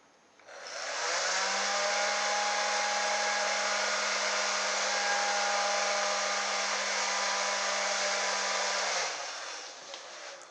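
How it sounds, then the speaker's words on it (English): A ducted fan motor on a radio-controlled toy car spins up to a loud, steady high-pitched whine with a constant low hum, holds for about eight seconds, then winds down and cuts off. "the radio control does nothing now other than turn the motor on and off for the ducted fan"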